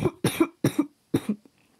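Four close, sharp coughs in quick succession, each a short rough burst with a brief pause between, heard alone with no talk.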